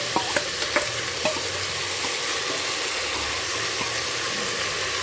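Mutton sizzling in a pan with onion and tomato for a Bengali mutton curry, a steady hiss of frying with a few sharp clinks of stirring near the start, close and moderately loud.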